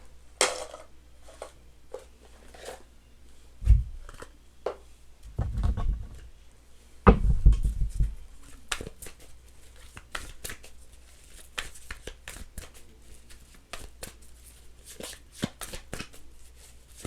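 Tarot cards are shuffled and riffled by hand in repeated bursts of crisp flutters and taps, with a few louder thumps along the way.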